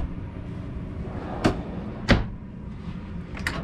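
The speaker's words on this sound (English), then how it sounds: "these are full extension drawers." Full-extension drawers in the galley of a 2020 Prevost motorcoach slide and close with two distinct soft thumps, then a fainter knock, against a quiet interior background.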